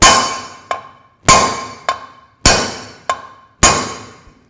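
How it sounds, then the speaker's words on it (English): Hammer blows driving a bearing out of a Harley Sportster engine case, four loud metallic strikes at an even pace, each followed by a lighter tap and a ringing decay. "As you hammer, dirt falls, so you get the bearings as you go."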